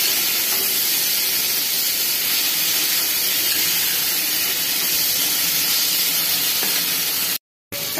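Mango chutney simmers in a covered pan with water added, giving a steady, even hiss and soft bubbling that holds throughout before a brief cutout near the end.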